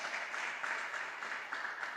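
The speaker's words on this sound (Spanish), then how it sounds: "Dale un aplauso al Rey." A church congregation applauds during a Spanish-language sermon, producing a faint, steady wash of clapping that fills the whole short stretch.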